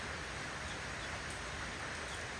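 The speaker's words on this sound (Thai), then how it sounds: "ฝนตกนะคะ ฝนตก" Rain falls at a home garden with flowers and a mango tree, a soft, steady hiss of drops that continues evenly and quietly with no breaks.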